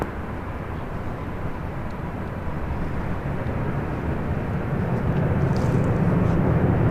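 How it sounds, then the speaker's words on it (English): A Southwest Airlines Boeing 737-700 from Sacramento lands on runway 24 left at LAX, heard as a steady, moderately loud broadband jet roar that swells gradually toward the end, with no talk. "That was Southwest Airlines Flight 1592. Coming in from Sacramento, 737-700."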